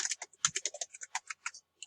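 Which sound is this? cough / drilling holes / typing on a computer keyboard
typing on a computer keyboard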